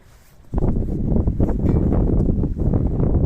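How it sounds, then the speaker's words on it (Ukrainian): Wind suddenly gusts into the microphone, a loud low rumbling buffet that continues steadily after a quieter start. "а тут такий вітер"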